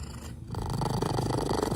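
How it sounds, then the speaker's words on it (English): A cat purrs loudly right beside the listener, a deep rhythmic rumbling motor that starts after a brief lull and keeps going steadily on its own. "I've never heard a cat purr so loud before."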